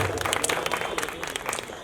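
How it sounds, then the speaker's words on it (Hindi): Audience at a seminar on railway job vacancies claps enthusiastically, a lively burst of applause with distinct individual claps popping out close by, slightly uneven in rhythm. "तो एक बार जोरदार ताली."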